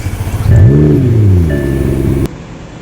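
A car engine cranks and catches at close range inside the cabin, then revs in a rising and falling sweep before settling into a steady idle that cuts off abruptly near the end.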